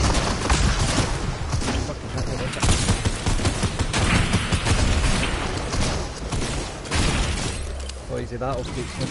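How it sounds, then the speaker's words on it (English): Heavy gunfire in a Warzone-style battle royale game, loud rapid bursts and booms filling the whole stretch while a voice talks over them. "Been shot at."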